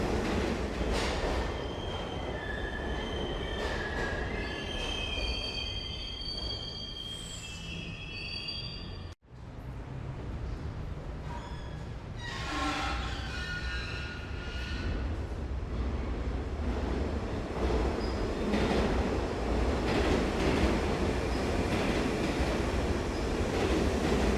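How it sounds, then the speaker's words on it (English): Metro train car in the video game ICEY rumbling along the track, a steady loud roll with screeching wheel squeals and metallic whines, plus a brief cut-out partway through. "ICEY enters a metro car in total disrepair, but it seems like it could still be operated. The metro begins to move"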